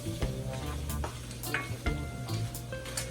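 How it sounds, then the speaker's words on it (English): Conch stir-frying in a hot pan for a curry conch dish, with a steady close sizzle and scattered clicks and scrapes of stirring throughout. "at this point, we're pretty much doing a stir fry."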